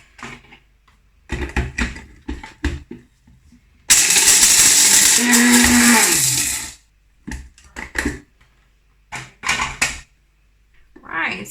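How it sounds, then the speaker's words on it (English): Electric spice grinder whirring loudly as it pulverizes roasted, burnt date pits into powder, a steady high-pitched burst of about three seconds with a falling pitch, set between stretches of someone talking. "I'm adding them to my little spice grinder. And we're gonna grind it into powder."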